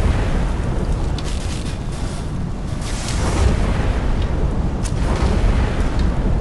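Dense, chaotic rumbling blasts from the video game Skyrim Dragonborn, continuous low booms and crackling debris layered over each other with no pauses, loud throughout.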